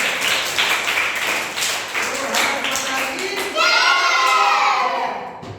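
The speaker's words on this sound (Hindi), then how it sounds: "शाबाश, ताली बजाइए।" Schoolchildren in a classroom clap together after a correct answer, a brisk burst of rapid claps mixed with excited voices, then the children shout and chatter loudly as the clapping fades.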